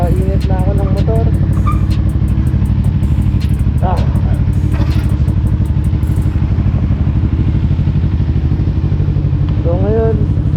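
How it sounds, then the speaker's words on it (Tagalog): A motorcycle engine warms up at idle, a steady close rumble running throughout on a ride from Cebu to Boracay, with a few clattering knocks and brief bits of talk over it. "So napagpainit na ako ng motor."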